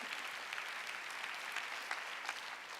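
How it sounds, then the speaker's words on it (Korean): Congregation applause during a Korean church sermon, steady dense clapping from many hands at moderate distance, sustained evenly throughout without voices on top. "박수."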